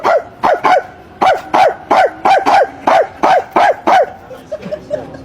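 Dog in Scotland barks in a rapid string of about a dozen loud, close, sharp barks, then drops into a few softer yips and whimpers at the end.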